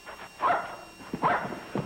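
A dog barks a few times at a moderate distance in a rural sitcom setting, short yelping calls spaced under light background noise with no talk.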